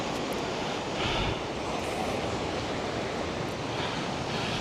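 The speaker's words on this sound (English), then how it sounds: "It's a bit scary when the waves are big" Big ocean waves break along the shore on a seaside walk near Caernarfon, making a loud, continuous roaring wash mixed with gusty wind buffeting the microphone.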